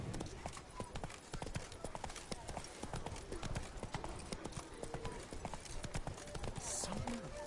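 Hooves of Roach, a horse in a video game set in Beauclair, clip-clopping in a steady rhythm throughout, with a voice talking over the hoofbeats.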